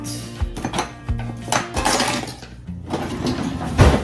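A mini whisk mixes cake batter in a bowl, producing close, irregular scraping taps and clinks against the sides, with pauses between bursts of stirring.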